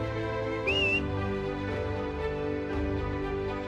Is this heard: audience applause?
no